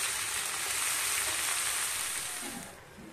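Shrimp frying in a pan for Filipino adobong pasayan, a steady close sizzle that holds loud and even before easing off near the end, with no voices.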